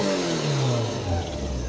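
Toyota AE86 with a 4A-G engine revs steadily, a loud close-up rising engine note with rich harmonics that climbs and holds across the whole stretch, with no talk over it.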